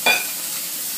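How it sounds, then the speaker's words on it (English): Filet mignon searing in a hot pan, a steady bright sizzle that flares briefly at the start and then holds at a constant hiss, close and loud with no talk. "You wanna sear it nicely on both sides."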